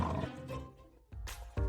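A tiger roars in short, loud bursts that stop and start, close and unaccompanied by speech, as a girl is said to turn into a tiger.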